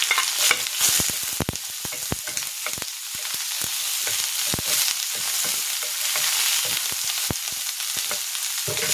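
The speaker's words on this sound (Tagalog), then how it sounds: "igigisa ko na dito yung sibuyas" Onion sautéing in a hot pan for chicken bistek, giving a loud, steady sizzle full of sharp crackles and pops throughout, with no voices.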